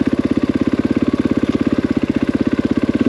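KTM 500EXC-F dirt bike engine pulling hard in third gear, a loud, close, rapid pulsing thump at a steady pace.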